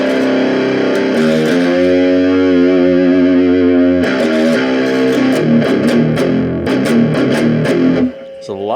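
An electric guitar runs through an Artec gain boost circuit into a small practice amp, giving loud, thick, fuzzy distorted chords and single notes with some added noise, played close until a brief drop near the end.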